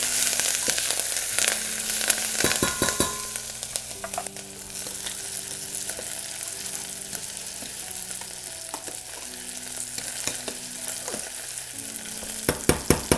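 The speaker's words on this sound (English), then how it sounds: "So these onions here, we're trying to caramelise them" Onions caramelising in a pan give a steady broadband sizzle and crackle, with occasional sharper stirring scrapes and a faint low hum beneath; no voices.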